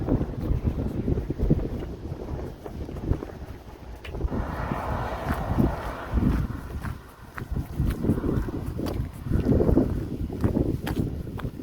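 Strong wind blasting across an open straight stretch of the Spanish meseta, buffeting the microphone with loud, uneven gusts and low rumble that swell and ease over the whole stretch.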